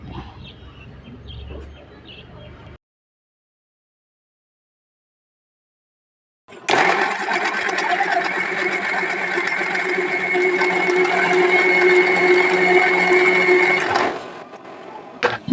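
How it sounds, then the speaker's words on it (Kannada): Electric mixer grinder grinding a masala of coconut, garlic, chillies, curry leaves and tamarind, a loud steady whirring drone that starts after a short silence and runs for several seconds before winding down. "ಇಷ್ಟು ಹಾಕಿ ಮಸಾಲೆನ ರುಬ್ಕೊಳ್ತಾ ಇದ್ದೀನಿ"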